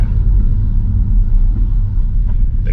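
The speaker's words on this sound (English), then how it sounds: "the car changed gear perfectly, which is great, and now it's changed down." An Audi S3 on its first drive gives a steady, loud low engine rumble from inside the cabin, with a faint shift change near the end.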